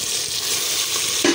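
Tomatoes go into ginger-garlic paste already sizzling in a pan for rajma, giving a steady, close frying hiss that swells into a louder burst of sizzle near the end.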